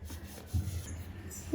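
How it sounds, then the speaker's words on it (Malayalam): Powdered sugar is stirred into soaked dry fruits for an eggless plum cake: a quiet, close, gritty rubbing and scraping that continues softly without any talking. "ഈ പഞ്ചസാര നമുക്ക് നേരത്തെ കുതിർത്ത് വെച്ചിരുന്ന ഈ ഡ്രൈ ഫ്രൂട്ട്സിൻ്റെ കൂടെ ഒന്ന് മിക്സ് ചെയ്തെടുക്കാം"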